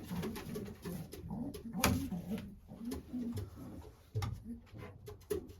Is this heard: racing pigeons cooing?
yes